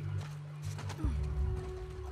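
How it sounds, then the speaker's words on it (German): Horses in the video game The Last of Us Part II give a short neigh and snort over low hoof and movement sounds, close and clear, with a rising whinny near the middle. "Wir lassen besser die Pferde hier."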